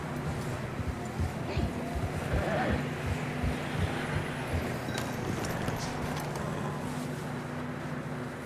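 Horse galloping in the video game Red Dead Redemption 2, a fast rhythmic clip-clop of hooves under a steady low rumble, with a voice talking over it partway through.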